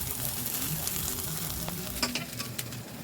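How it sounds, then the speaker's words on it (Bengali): Neem leaves fry in hot oil in a pan, giving a dense, steady sizzle with occasional stirring scrapes. "তাই ভালো করে নিমটাকে ভেজে নিতে হবে।"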